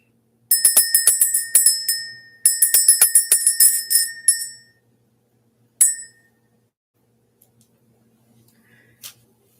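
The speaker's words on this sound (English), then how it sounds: "Let's ring the bell." A small hand bell rung to clear energy gives two close bursts of rapid, bright ringing in the quiet, followed by a single strike and one faint last ding.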